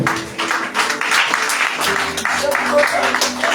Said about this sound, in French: Quand c'est comme ça, vous acclamez le Seigneur